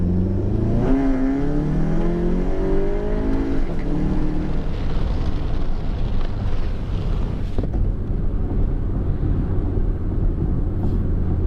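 A VW MK7 GTI with a catless downpipe and Cobb Stage 3 tune accelerating hard in second gear, engine note climbing steadily in pitch with loud continuous exhaust drone and wind rush throughout, no talk.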